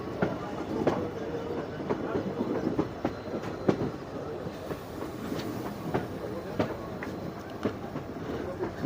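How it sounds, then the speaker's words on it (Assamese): A train runs through a curve with a steady rumbling roar and a regular clickety-clack of wheels over rail joints, heard from inside, close and continuous. "এইটো চাওক দুয়োফালে টাৰ্ণিং লৈছে চাওক ট্ৰেইনখন"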